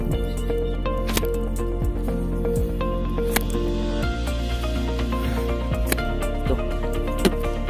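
An octopus slapped repeatedly against beach sand during an octopus hunt, giving wet squishy smacks and drips at irregular intervals, close and fairly steady, with no talk.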